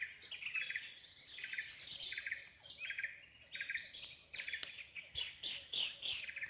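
Various birds chirp in a banyan tree, a busy overlapping chorus of high tweets and trills heard from below at moderate distance, continuous and lively throughout with no talking.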